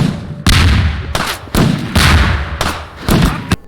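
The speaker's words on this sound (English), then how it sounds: "The grenades it shoots also look like suppositories, and their impact sound resembles the thump of a fat man's belly diving" Loud, heavy thumping impacts from SMG grenades in Half-Life 2, about five booming hits in under four seconds, each a thick low thud with a short rumbling tail and no talk.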